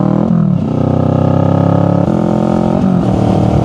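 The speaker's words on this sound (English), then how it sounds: "Definitely good to be out on the bike again." A motorcycle riding on the road, its engine droning loudly and continuously close by, with the pitch shifting as the rider changes speed.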